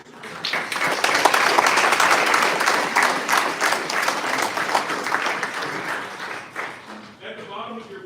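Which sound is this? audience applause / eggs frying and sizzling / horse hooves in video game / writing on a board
audience applause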